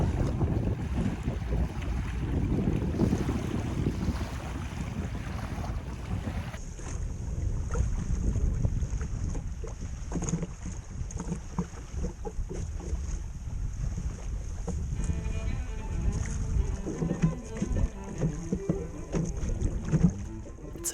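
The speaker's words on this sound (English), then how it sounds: "I'm just gonna row right back over to the point here" Oars splash and creak in a steady rowing rhythm from a small boat, with wind buffeting the microphone and water lapping around.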